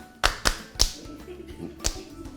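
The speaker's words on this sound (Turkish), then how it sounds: "Alkışla bakayım şimdi." A schoolchild at a primary school drama session claps hands, giving six sharp, separate claps at uneven intervals, close and distinct against a quiet room.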